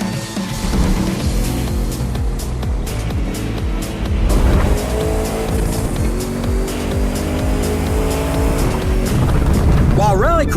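Hypercars in The Crew 2 roar along rough asphalt through deep woods, loud engines rising and falling through gear shifts with tire noise, close and dense, with a voice talking over the racing.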